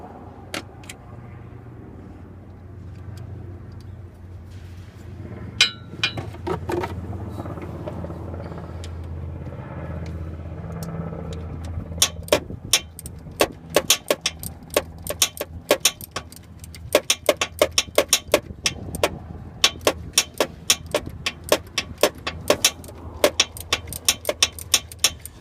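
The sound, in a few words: tightening bolts with hand tools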